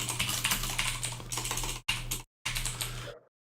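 Rapid typing on a computer keyboard, close and clear, with dense key clatter in bursts broken by two short pauses before a final stop, over a steady low electrical hum.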